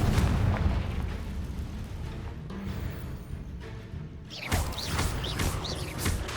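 Confringo fire spell explosion in Hogwarts Legacy, a loud rumbling burst with a long roaring decay, then a second crackling blast with whooshing sparks near the end.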